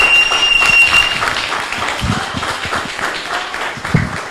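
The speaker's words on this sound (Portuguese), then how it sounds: "Então eu queria pedir de novo mais umas palmas aí para a tia Carmen" An audience claps for a woman being honoured at an event about drug policy and favela communities. The applause is dense and close, with some louder individual claps, and it holds fairly steady before easing slightly.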